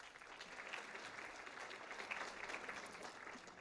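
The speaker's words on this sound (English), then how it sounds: "give yourselves a round of applause" Staff at an all-staff rally give sustained applause, a dense even wash of clapping from a large audience that runs through the whole stretch without pause.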